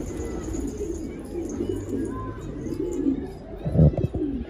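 An Urfa pigeon coos softly nearby in low, rolling murmurs, with faint bird chirps and a brief rustle toward the end.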